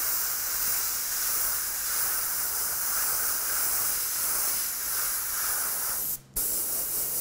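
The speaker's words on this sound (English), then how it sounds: "I've got this color in my airbrush" Steady, close airbrush hiss spraying paint onto a Boba Fett helmet, continuous for several seconds with one brief cutoff near the end before resuming.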